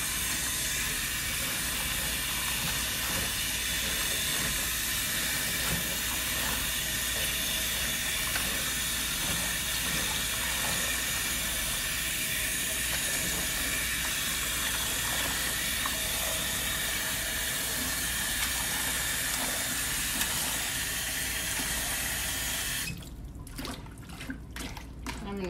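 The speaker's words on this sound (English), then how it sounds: "Probably just rinse them a couple of times so there's no dirt left behind." Collard greens rinsed under a running kitchen tap: a loud, steady hiss of flowing water fills nearly the whole stretch, then breaks into splashing and handling noises near the end.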